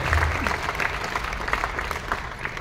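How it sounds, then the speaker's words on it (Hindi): An audience at a motivational talk claps loudly and steadily, a dense close wash of applause that carries on through the whole short stretch. "इनके लिए जोरदार तालियां"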